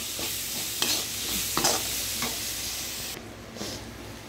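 Onions and green chilies fry in a pan with a soft, continuous sizzle, stirred now and then with short scraping clicks, close and fairly quiet.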